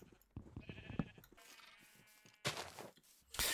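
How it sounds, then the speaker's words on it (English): Sheep bleating in the video game Minecraft, a few short bleats in a row from a newly released penned flock on a farm, fairly close and moderately loud with brief gaps between calls. "So we've got these sheep doing their thing now."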